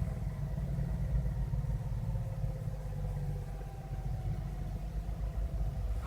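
An electric motor hums in a 1988 EVcort electric car, giving a steady low drone with a faint whine on top that holds fairly even for several seconds.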